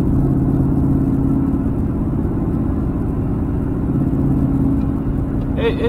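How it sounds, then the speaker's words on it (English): A loud Mustang exhaust drones steadily while cruising at 75 mph on a snowy freeway, a constant low rumble with road noise that holds unchanged throughout and a brief brighter sound near the end. "I am cruising on the freeway at 75 miles per hour. You can kind of hear it."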